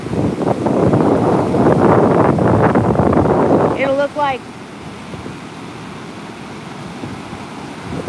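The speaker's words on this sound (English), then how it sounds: "But here comes the ocean." Ocean surf rolling onto a flat Oregon beach while razor clamming, a steady loud wash of waves with heavy wind buffeting the microphone, then quieter surf after a brief chirping sound.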